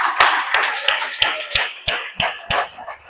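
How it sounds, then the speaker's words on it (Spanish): Church congregation clapping in a steady, evenly spaced rhythm, about nine sharp claps close and fairly loud, like a group clapping together in time. "Denle ese aplauso al Señor."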